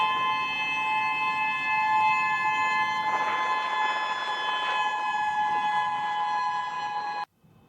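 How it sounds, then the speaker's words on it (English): Sirens wail after an earthquake in layered steady tones across the whole stretch, sounding distant and sustained, with no voices, then cut off abruptly near the end. "even as the sirens were heard"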